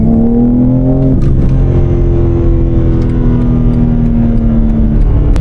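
A BMW M3 Competition in normal mode pulls away under light throttle on a public street. From inside the cabin, the engine note climbs smoothly and steadily, loud and close, with no talking.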